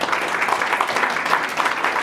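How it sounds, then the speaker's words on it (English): Church congregation clapping together in a steady, dense wash of applause, fairly close and loud throughout, with no talk over it. "Let's give God a hand clap."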